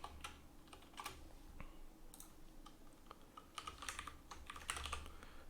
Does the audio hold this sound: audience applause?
no